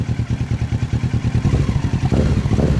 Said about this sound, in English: apply a small amount of gas by squeezing your throttle